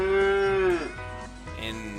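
A cow in the Agricultural Simulator Historical video game gives a single loud, close, drawn-out moo that falls off at the end.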